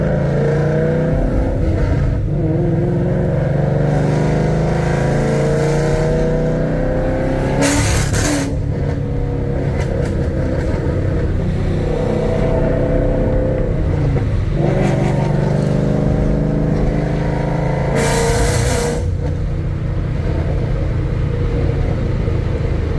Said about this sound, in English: So just barely getting on it there. Sounds really good.